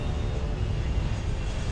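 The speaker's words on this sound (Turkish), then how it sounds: "Savaş uçakları." Fighter planes flying, a dense continuous roar of jet engines filling the sound evenly with no break, heard alone and without voices.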